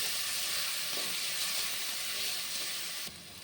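Onion, ginger, garlic, mint and coriander sautéing in a pan, a steady broadband sizzle and hiss with no talk over it, continuous and fairly close, dropping slightly near the end.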